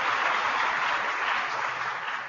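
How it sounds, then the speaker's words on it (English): An audience at an Agriculture Day event applauds steadily in honour of the Secretary of Agriculture, a dense, continuous clapping with no voices over it. "Would you join me in giving another round of applause to this great secretary"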